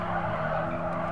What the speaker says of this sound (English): Now on the brakes very gingerly, and then much harder now.